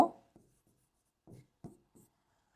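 Pen or pencil writing a math proof by hand, a few short separate scratchy strokes with brief pauses between them, close and quiet in near silence.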